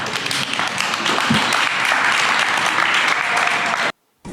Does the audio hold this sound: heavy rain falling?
no